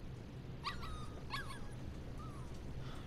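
A puppy in the video game Life is Strange 2 gives a few short, high whimpers and yips, close and clear over a quiet low background.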